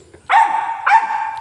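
A big white pet dog barks twice in quick succession, close and loud, each bark sharp and slightly drawn out.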